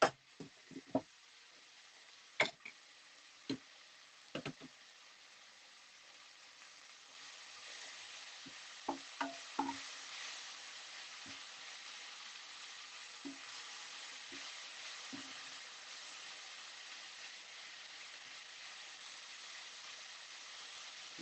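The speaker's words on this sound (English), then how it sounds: "I'm just letting that fry for 2 minutes." Pork fries in a pan for a Vietnamese pork dish, giving a faint steady sizzle broken by occasional utensil knocks and scrapes early on, with no talking.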